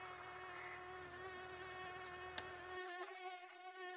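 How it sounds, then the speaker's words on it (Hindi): A mosquito whines steadily and close, a thin high-pitched buzz that holds for several seconds while a low background hum drops away partway through; nobody speaks. "मच्छर बहुत काटी जा रहा है"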